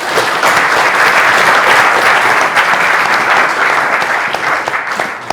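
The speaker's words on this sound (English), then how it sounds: "Give our volunteer a big round of applause." A round of audience applause for a volunteer at a developer user-group demo, a full, loud clatter of many hands that swells early and eases slightly toward the end.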